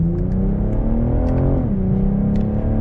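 A 2022 BMW M440i Coupe with an 8-speed gearbox accelerates smoothly from inside the cabin, a loud, steady engine drone rising in pitch, briefly settling at a gear change, then climbing again with no talk.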